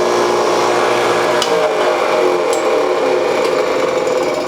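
Power drill boring a hole in a classic folding knife, a close, loud, steady whirring grind with brief sharp clicks, continuous throughout.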